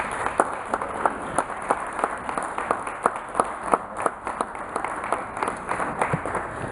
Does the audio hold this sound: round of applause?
yes